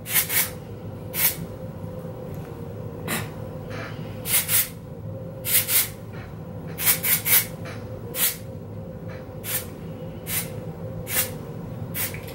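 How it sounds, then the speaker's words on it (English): Short pumped bursts of hair spray misted onto long hair, about a dozen quick hissing puffs spaced irregularly, some in pairs, over a soft steady background, with no talking. "I like to go back in with the beach spray and just like lift up my hair."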